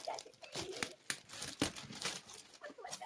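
Gift wrapping being torn open and crumpled to reveal a doll, with crinkling, rustling bursts and a few sharp tearing snaps close up, a voice faintly in the background.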